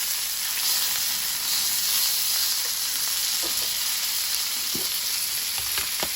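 A continuous loud hiss and crackle comes from fish frying in hot oil, heard close up, with a few light knocks of a utensil toward the end and no voices.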